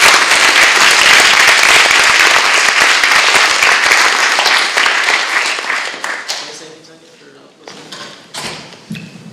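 An audience applauds loudly for an artist panel, sustained clapping for about six seconds that then fades into scattered claps, thumps and quiet room noise.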